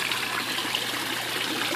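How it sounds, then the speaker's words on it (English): Small backyard pond waterfall, its foam seal still leaking, trickling and splashing in a steady, close, continuous wash of water with no pauses. "just a quick vid on the waterfall."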